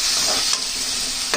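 Tomatoes with salt frying in a pan for shavige bath, a steady close sizzle with a couple of brief stirring scrapes and no voices.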